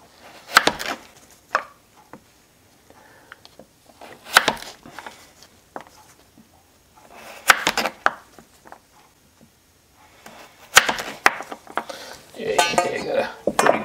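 Detroit Red beets being sliced on a board, close knife chops in irregular clusters with quiet gaps between, plus a few clinks of utensils and bowls.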